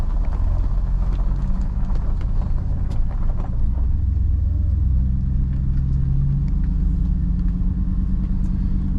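A Chevy SSR with a newly installed transmission pulls away in first gear, its deep engine rumbling steadily and loudly up close, with a rising drone and faint clicks over the road noise.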